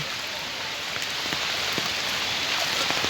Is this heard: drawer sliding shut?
no